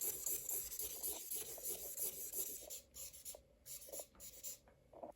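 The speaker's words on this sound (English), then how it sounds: "I'm quickly using the broad tip of this marker to color in the curtains" A broad-tip marker coloring in curtains on a paper sketch rubs in rapid back-and-forth scratchy strokes, close and soft, with short gaps near the end and no speech.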